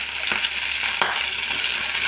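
Oil and cumin seeds sizzle in a hot pan, a steady close crackle and hiss broken by a few sharp clicks from stirring, with no voices.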